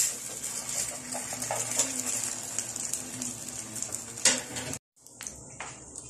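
Japanese French toast goes into about three tablespoons of hot oil in a frying pan, giving a broad, steady sizzle with utensil clinks, then an abrupt drop to near silence before the hiss resumes faintly.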